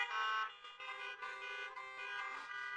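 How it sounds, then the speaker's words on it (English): Car horns honk at a drive-in church service, held as several overlapping, sustained tones. They are moderately loud and blend together, and no one talks over them. "You can honk for that."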